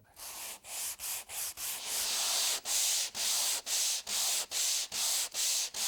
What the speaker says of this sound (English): Set it on the molding and begin to sand.